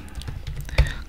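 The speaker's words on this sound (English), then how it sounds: "So we are start typing" Typing on a computer keyboard while writing Node.js web server code, heard as a quick run of soft, close key clicks with one sharper, louder stroke near the end, and no talking.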